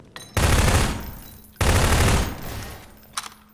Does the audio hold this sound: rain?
no